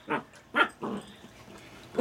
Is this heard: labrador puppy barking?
yes